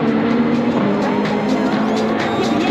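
Race cars run on track during practice at the Le Mans 24 Hours, heard as a continuous loud engine roar with shifting pitch, full and close, with a commentator talking over it.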